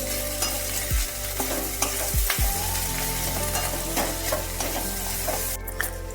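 A spatula stirs food in a pan over a medium flame, with several sharp metallic scrapes and knocks over a steady sizzle.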